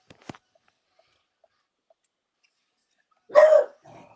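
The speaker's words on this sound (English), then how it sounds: "sorry, my dog is barking." A single short dog bark sounds near the end, preceded by a couple of faint clicks and near silence, with no talking over it.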